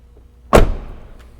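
Door of a Mercedes Sprinter camper van, a Grech RV Turismo, closing in a single solid thud with a short fading rattle, close and loud.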